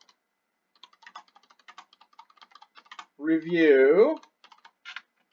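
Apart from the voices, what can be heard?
typing a reply on a computer keyboard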